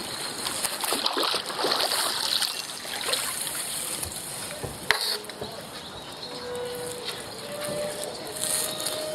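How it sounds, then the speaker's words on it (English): Kayak paddling through water beneath a low bridge, with soft dips and splashes over a steady wash of moving water, a sharp knock partway through, and no talk. "there's a bridge here that I need to go underneath of, and it's gonna be a pretty tight squeeze"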